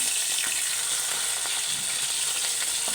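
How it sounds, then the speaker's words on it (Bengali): Fish rubbed with salt and turmeric fry in oil with a steady, close sizzle and a few faint spoon scrapes, and no one talks. "ভালো করে নুন হলুদ মাখিয়ে নিলাম এগুলো মাছ ভাজতে বসিয়ে দিয়েছি"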